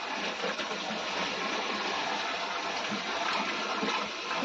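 Water running straight from a hose pipe into a container outdoors, a steady, even rushing gush with no pauses and no voices over it.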